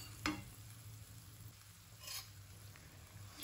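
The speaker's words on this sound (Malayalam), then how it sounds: "എന്നിട്ട് ലോ ഫ്ലെയിമിൽ പൊടികൾ മൂപ്പിച്ചെടുക്കുക." Spice powders and green chillies fry in sunflower oil over a low flame for Mumbai-style pav bhaji, a faint, steady sizzle with a few soft stirring scrapes and clicks.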